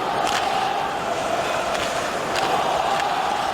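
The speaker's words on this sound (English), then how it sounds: "Luongo, the cheer from the crowd." A hockey crowd at TD Garden in Boston, at a Bruins game against the Vancouver Canucks, reacts to goaltender Roberto Luongo with a steady, dense roar that holds at the same level throughout.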